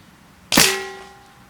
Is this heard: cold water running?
no